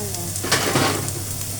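Vegetables for fried rice frying in a pan, a brief, steady, close sizzle with a faint stir partway through.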